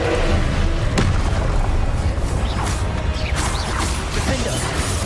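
Explosive Confringo spell blasts in the video game Hogwarts Legacy, a dense, continuous roar of booms, crashes and whooshes with sharp impacts near the start and around the middle.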